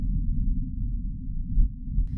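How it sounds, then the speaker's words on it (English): A low, muffled rumble of wind on Mars, recorded by a rover, buffets steadily, dull and deep with gentle swells and no voices. "that's how we know that the wind on the red planet sounds like this"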